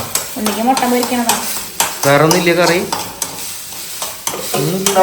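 Eggs frying in a pan hiss steadily in the background while voices keep talking over the cooking sound, with brief pauses in speech letting the sizzle come through.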